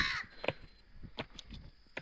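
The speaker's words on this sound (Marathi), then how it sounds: "डोक्याच्या वर कावळे फिरतात" Several harsh crow caws ring out in short bursts over a quiet outdoor background, fairly faint and spaced irregularly.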